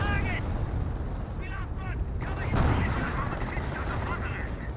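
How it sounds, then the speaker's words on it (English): A Calliope rocket barrage in Company of Heroes 1 rumbles through the battle as a dense roar of explosions and artillery-like fire, with a voice speaking over the chaos. "And now do have a Calliope rocket barrage onto the Nebula Warpers."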